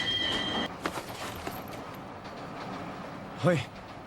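A train runs through an anime scene with a steady rolling rumble of wheels on track, a brief whine early on and a sharp wheel squeal near the end, heard at moderate level.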